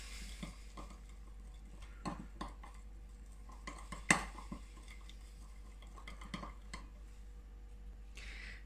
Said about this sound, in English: And mix that up.